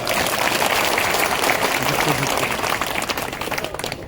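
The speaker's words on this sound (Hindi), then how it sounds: "तालियां बजाओ" A crowd at a beneficiaries' gathering in Badarwas applauds, dense sustained clapping that stays loud and steady before thinning slightly toward the end, with voices mixed in.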